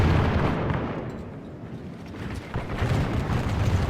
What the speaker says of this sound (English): Now the arquebusiers have opened fire.